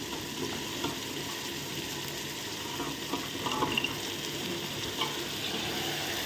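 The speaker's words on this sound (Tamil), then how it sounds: "காய்கறி போட்டு நல்லா வதக்குவோம்" Potato, carrot, drumstick, beans and broad beans sauté in a pan for sambar rice, a low continuous sizzle with occasional light scraping and stirring, faint and close with no voices.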